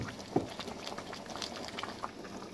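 Periwinkle snails dropped into a simmering pot of Nigerian seafood okra soup with turkey meat: a soft splash and clatter, then quiet bubbling and patter close by.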